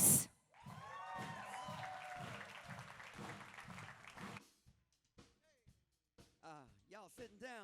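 Audience applause with scattered cheers at the Dismas House Forgiveness Gala 2024, a loud sustained clapping crowd for about four seconds that then fades out, followed by brief talk and some musical tones.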